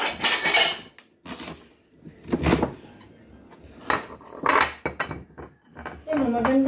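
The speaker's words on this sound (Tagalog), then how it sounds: "Gayatin na rin natin yung gabi." Knife slicing taro root on a plate in a home kitchen, a few scraping, clinking cuts with pauses between, close and fairly loud, with brief voices nearby.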